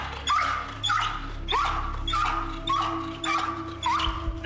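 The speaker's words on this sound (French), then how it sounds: "Le chien a été spécialement dressé pour rechercher de l'argent liquide, mais aussi toutes sortes de drogues." A police detection dog trained to sniff out cash and drugs gives repeated short yips and whimpers, about six in a row, fairly quiet over a steady low hum during a search in Rennes.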